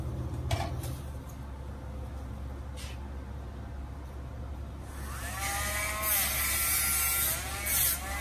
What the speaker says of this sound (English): So now we're gonna put the trimmer.